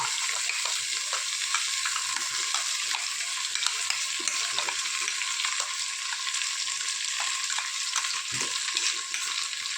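Mint, coriander, green chillies and ginger garlic paste fry in a pan for an egg biryani, giving a steady, close sizzle with faint stirring scrapes throughout.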